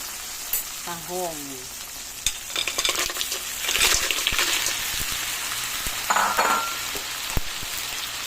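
Mussels being stirred together with tomatoes in a hot pan for ginataang tahong, with steady sizzling and scraping stirs and a brief spoken voice near the start.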